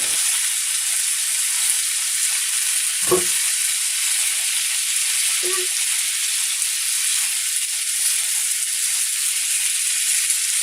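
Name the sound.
pasta added to a frying pan and stirred, sizzling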